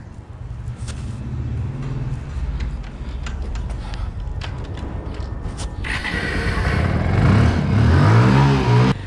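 A motorcycle starting a ride, first mechanical clatter and creaks, then the engine revving up loud and close with rising pitch over the last few seconds.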